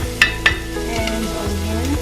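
Garlic dropped into hot oil in a home kitchen pan sizzles steadily, with a couple of sharp utensil clinks against the pan early on, close and alone without talk.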